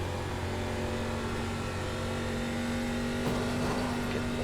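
A race car engine in the iRacing ARCA video game drones steadily at a constant pitch throughout, fairly quiet and even, with a slight swell near the end.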